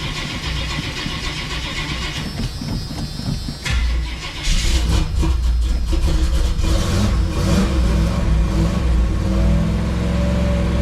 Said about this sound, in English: let's cold start the 84 Camaro